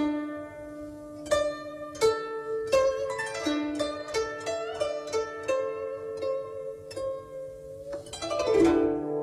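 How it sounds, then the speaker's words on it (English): Plucked string notes bent a quarter tone sharp on the fourth and a quarter tone flat on the seventh, each held with vibrato, ringing out one after another as a clear, close melodic line that ends in a busier cluster of notes. "a quarter sharp 4 and a quarter flat 7 with vibrato."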